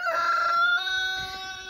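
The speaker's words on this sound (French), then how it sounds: "Donc on est dans le parc des bleus, donc constitué de trois poules bleues, excusez-moi, et de un coq splash." A splash Brahma rooster crows once, close and clear, in a pen shared with three blue Brahma hens.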